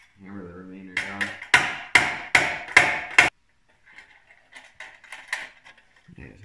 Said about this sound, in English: I'm just going to use the edge of the table to hammer the remainder down